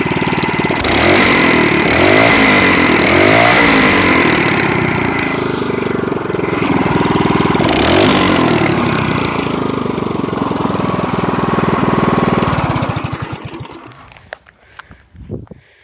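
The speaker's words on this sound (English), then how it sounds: "You really hear those valves. I'll rev it up." A Predator 212cc small engine fitted with 18 lb valve springs revs loudly and close up, with rising and falling surges and a clattery valvetrain, then cuts off and fades to near silence.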